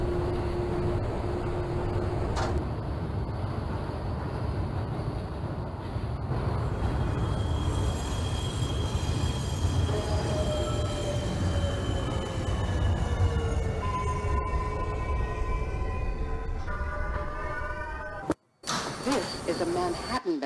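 A subway train in a video game simulation, a Manhattan-bound 2 train, rumbles steadily while its motors whine in rising and falling tones, ending with a brief clunk and a short drop.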